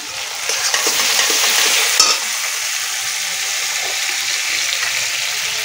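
Spices with salt and turmeric fry alongside small kuchi fish in a pan, making a loud, close, continuous crackling sizzle with a brief burst of stirring partway through.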